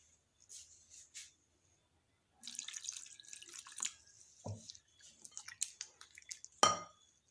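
Water trickles and drips into jeng pitha rice-flour dough in a bowl, with scattered splashes, light kitchen clatter and a sharp knock near the end, close and fairly quiet.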